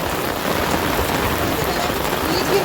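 Rain falls steadily on outdoor surfaces near a water tank, a dense, even hiss that stays constant and fairly loud throughout.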